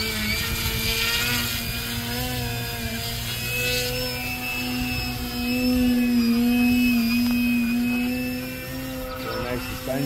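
A Flex Innovations Cap 232EX 60E electric RC aerobatic plane flies overhead, its motor a steady high whine that rises and falls as it passes, with people talking nearby.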